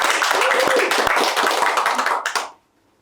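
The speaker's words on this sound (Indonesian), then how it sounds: "Tepuk tangan sekali lagi." A studio audience at a talk show claps in a dense, lively burst for over two seconds before the applause stops abruptly.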